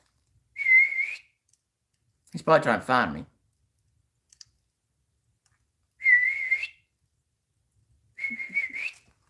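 A person whistles at night, giving three short, clear single-pitch whistles spaced apart, with a brief spoken line between them in an otherwise quiet setting.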